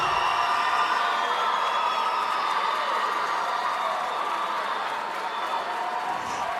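Sustained applause and cheering from a large crowd at a charter school graduation ceremony for the class of 2025, a steady dense roar of clapping and voices throughout.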